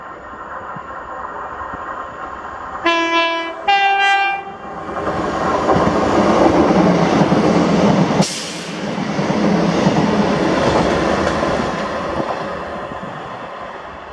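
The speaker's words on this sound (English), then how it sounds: "This is 1B54, the 1640 ScotRail service to Edinburgh from Inverness." A ScotRail passenger train bound for Edinburgh from Inverness passes Blair Atholl, sounding two loud horn blasts and then rumbling by close with clickety-clack wheel noise that swells and eases, with no voices.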